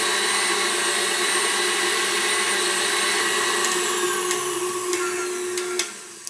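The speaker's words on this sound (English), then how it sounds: "this is going to continue to whisk until it forms stiff peaks" An electric mixer whisking to stiff peaks at high speed for a tiramisu Yule log, a loud, steady motor whine running close and unbroken, with a few faint taps from the beaters against the bowl near the end.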